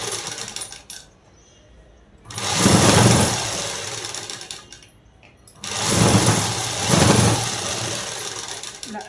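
Sewing machine stitching a topstitch on a collar-neck blouse lining, two loud whirring runs of a few seconds each separated by quiet pauses, with someone talking during the gaps.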